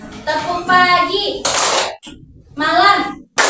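Fourth-grade pupils in a classroom playing a clapping rhythm game, a short burst of group hand claps between stretches of children chanting in unison.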